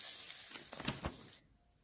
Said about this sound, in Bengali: তারপরে তেজপাতা, শুকনো লঙ্কা, জিরা, দারচিনি ও এলাচ দিয়ে ফোড়ন দিয়ে দেব।